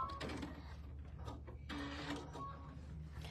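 A sewing machine runs steadily at close range, with its mechanical whir and clatter rising and falling in short bursts over a constant low hum; no one speaks.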